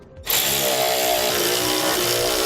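A power tool starts abruptly and runs steadily, close and loud, tightening nylon lock nuts on hardware for Air Lift LoadLifter 7500 XL air helper springs on a 2012 Ford truck.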